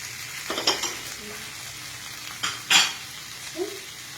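Fried paneer is stirred into a pan of sizzling cooked mixture, with a few distinct scraping and stirring bursts over a low, steady frying hiss, close and moderately quiet.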